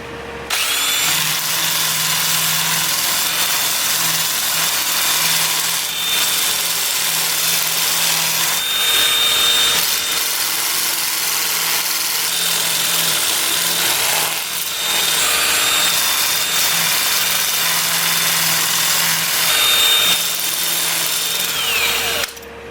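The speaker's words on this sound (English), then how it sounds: "let's get sanding." Sandpaper rubs against a wood-turned pedestal spinning on a lathe, a dense continuous hiss over the low motor hum, steady and close, with brief dips where the pressure eases.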